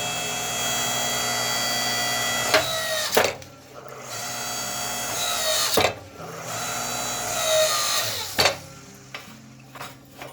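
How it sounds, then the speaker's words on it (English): An electric log splitter converted to a blacksmith's forge press squeezes hot steel, giving a continuous mechanical whine and hum that is broken by several sharp clunks and hissing bursts as the ram cycles. "So as you can see, it still squishes beautifully."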